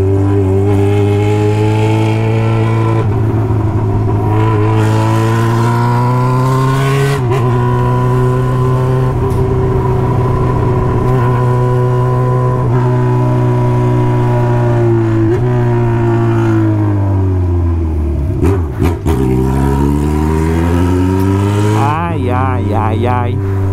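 Yamaha XJ6 and Honda Hornet motorcycle engines running with only the exhaust pipe fitted, a loud, close, sustained roar with the pitch rising and falling through several revs and a sharp drop near the end.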